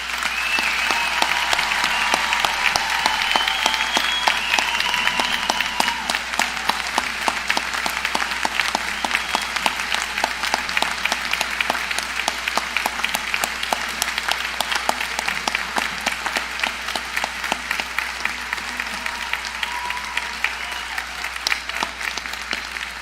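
Long, steady applause from a large commencement crowd at Southeastern Oklahoma State University honoring members of the armed forces, dense continuous clapping with a faint underlying hum.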